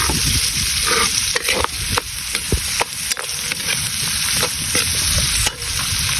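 Octopus adobo in coconut milk, with onion, leek and chili, sautés in a pan, hissing and sizzling steadily while a utensil scrapes and knocks against the pan in irregular strokes, close and alone.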